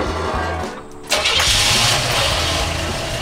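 Vintage camper's engine cranks briefly, catches with a sudden surge and settles into a loud, steady running rumble close by.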